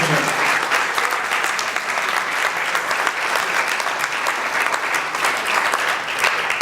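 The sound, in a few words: audience applause for veteran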